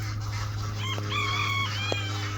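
Chickens in a coop give a short run of cackling, crowing-like calls, moderately close, over a constant low electrical hum.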